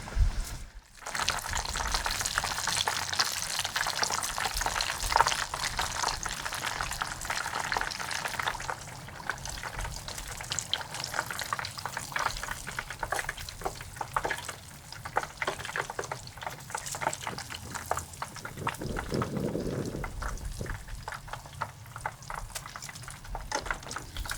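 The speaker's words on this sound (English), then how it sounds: "While your chicken is frying" Steady, dense sizzling and crackling of chicken pieces deep frying in hot oil, continuous and fairly loud throughout, with no talking.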